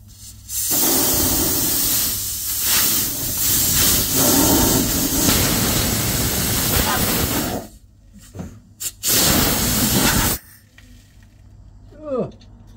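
Compressed air hisses loudly and steadily from a cut truck brake air pipe, a broad close blast that runs for several seconds, then stops and restarts in short bursts with clanks of handling between.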